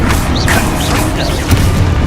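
A Confringo blasting spell going off in Hogwarts Legacy, a loud dense booming blast with rumbling low end and crackling debris filling the whole moment.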